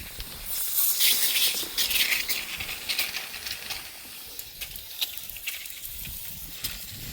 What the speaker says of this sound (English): A lot of water coming out of there.